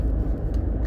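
An original Renault Scénic with a 1.4 petrol engine drones loudly and steadily from inside the cabin while driving, in a brief low rumble with no talk.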